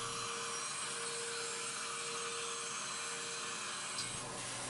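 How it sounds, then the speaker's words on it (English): A bandsaw cuts wooden outrigger pieces for a French cleat lumber rack, a steady faint whirring hiss with a thin motor whine, running continuously and alone before a brief tap near the end. "it's over to the bandsaw to make all my cuts"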